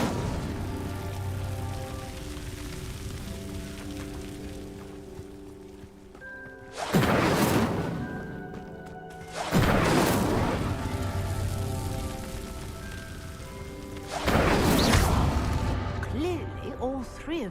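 Incendio fire spells flare up in Hogwarts Legacy as pyres are lit, three loud whooshing bursts of flame rising over a steady backdrop of rumbling ambience and faint musical tones.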